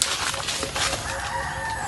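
A rooster crows once, fairly loud and close, over a hissy outdoor farm background with some clucking.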